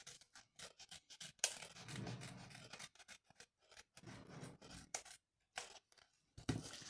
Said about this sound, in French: On prend un ciseau, on coupe.